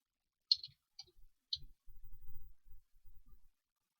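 Slow typing on a computer keyboard while writing code: a few sparse, crisp key clicks with soft low thumps, followed by a short run of quieter taps, close and faint in a quiet room.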